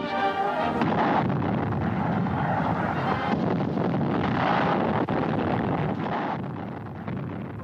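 WWII artillery and cannon fire from an old newsreel booms in heavy, rumbling bursts over a noisy, wind-like background, loud and sustained before slowly fading.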